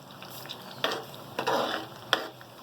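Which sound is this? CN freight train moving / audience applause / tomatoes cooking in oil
tomatoes cooking in oil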